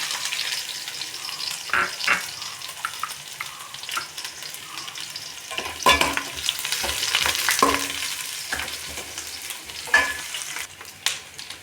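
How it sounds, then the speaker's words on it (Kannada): Onion, garlic and curry leaves frying in a pan, a continuous close sizzle broken by several sharp stirring scrapes and a rise in crackle midway, with no talk over it. "ಈರುಳ್ಳಿ, ಬೆಳ್ಳುಳ್ಳಿ ಮತ್ತು ಕರಿಬೇವು ಬೇಯ್ತಾ ಇದೆ."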